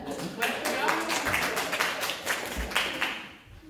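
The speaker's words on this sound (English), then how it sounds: "it's okay to clap" A small church congregation claps in a scattered, uneven burst at a Sunday service, with people talking over and around the clapping.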